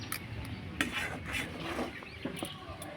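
Rice-flour dough is stirred continuously in a pan over gentle heat, giving soft scraping and rubbing strokes with occasional light clinks of a utensil against metal, close and fairly quiet.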